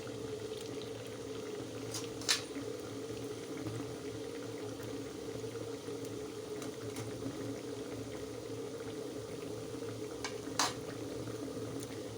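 Steady, low hiss of oil deep-frying mung dal kachori on low heat, with a couple of brief metallic clinks from a utensil, no voices.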